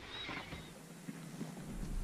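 Horses walk on icy ground on a chilly 18-degree morning outing. Soft, uneven hoof thuds and shuffling sound close by against a broad, windy outdoor noise.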